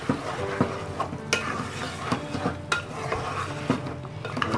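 Tomato puree stirred into mutton masala cooking in a pot, with a soft sizzle beneath repeated spoon scrapes and clinks against the pan at a slow, uneven rhythm, close and moderately loud.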